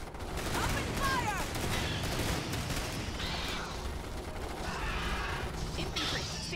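Gunfire in Starship Troopers: Terran Command, a real-time strategy game, with dense overlapping bursts and mechanical clatter running steadily throughout, mixed with game voice chatter.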